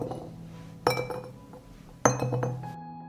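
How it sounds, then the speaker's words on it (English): Garlic cloves dropping into clean glass jars for pickling: two distinct bright clinks about a second apart, each ringing briefly against the glass before fading. "I add a clove of garlic to each jar."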